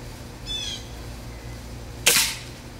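A Benjamin Prowler .177 air rifle fires a single sharp shot, loud and close, preceded by a faint high whine, with no talking.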